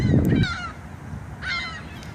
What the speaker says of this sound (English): you got the geese over here too